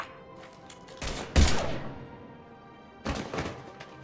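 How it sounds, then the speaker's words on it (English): Gunfire in Mass Effect 3, a couple of short bursts of heavy, thudding shots with a cracking impact between them, loud and close, no voices. "Now open fire!"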